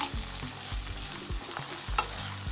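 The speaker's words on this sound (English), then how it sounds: "Just to fry it with the onion and the garlic a little." Tomato paste frying with onion and garlic for a lamb, potato and ginger stew, a steady close sizzle broken by repeated spoon scrapes against the pot, with no voices.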